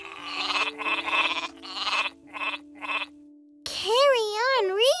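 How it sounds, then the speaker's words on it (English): Sheep in a Disney Junior cartoon bleat near the end, a loud, wavering cry following a stretch of children's sing-song speech over a steady tone. "from out of the book, jumped 8 sheep"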